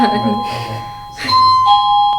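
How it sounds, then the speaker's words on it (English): A doorbell chimes over and over, loud and ringing tones sustaining and overlapping as one press follows another, while people talk in the background. "Someone's spamming that bell. Can someone let this person in?"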